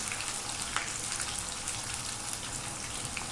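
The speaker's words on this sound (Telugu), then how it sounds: "అల్లం వెల్లుల్లి పేస్ట్ పచ్చివాసన పోయే వరకు కూడా ఈ విధంగా అయితే వేగనండి" Ginger garlic paste frying in a pan with a steady, dense crackling sizzle, close and even, tiny spattering pops scattered throughout with no voices.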